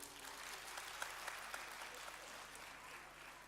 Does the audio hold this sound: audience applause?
yes